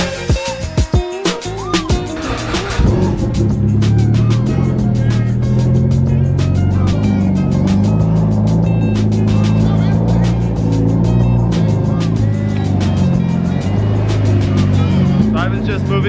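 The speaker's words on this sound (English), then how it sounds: "Just moving the Evo out of the way real quick so that we can push the Rx7 forward" A Mitsubishi Evo being driven a short distance, its engine running steadily and close by after a few brief knocks and clunks at the start, with a continuous low rumble throughout.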